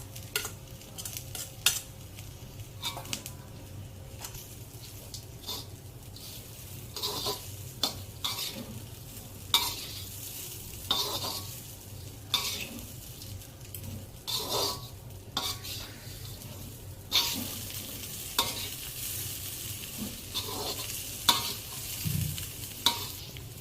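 Cluster bean usli with grated coconut being stir-fried in a pan, a spatula scraping and stirring in steady irregular strokes over a soft continuous sizzle, with occasional clinks against the metal pan, close and clear with no talking.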